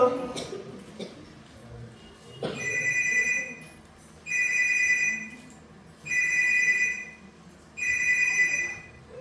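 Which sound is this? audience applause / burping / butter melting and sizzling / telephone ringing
telephone ringing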